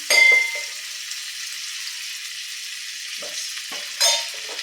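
Butter and oil heating together in a pan for masala pav make a soft, steady sizzle, with a louder clink and scrape at the start and another near the end.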